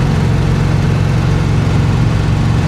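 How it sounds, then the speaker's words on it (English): A 1966 Chevy Impala engine runs steadily at highway speed, a loud, continuous low drone with road rumble and no breaks. "The engine sounds just like it's wound up."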